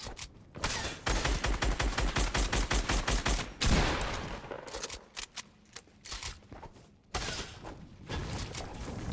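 A golden SCAR fires in Fortnite, with a rapid close burst of gunshots, a pause, then scattered shots and mechanical clatter continuing behind it.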